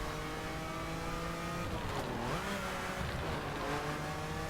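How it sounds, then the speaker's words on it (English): Lamborghini Miura SV in The Crew racing game, accelerating hard in a drag test on the Bonneville salt flats: a loud, steady engine roar climbing through the revs, with a brief dip and rising sweep as it shifts, alone without talk. "we are doing the drag test on the Bonneville flat"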